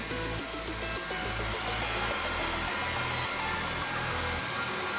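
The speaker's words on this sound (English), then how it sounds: "Almond, why are you running away from the blow dryer" Blow dryer runs continuously at close range, a loud steady whoosh of air used to dry a wet dog after rain, with no talking over it.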